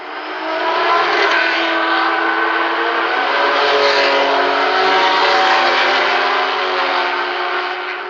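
Race cars at the 1973 Le Mans 24 Hours roll off at a slow pace on the reconnaissance lap. Their engines form a steady, loud, droning blend that swells in at the start and stays even throughout, with no voices.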